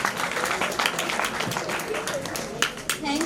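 Audience applause for a children's performance, steady broadband clapping sustained throughout with voices mixed in underneath.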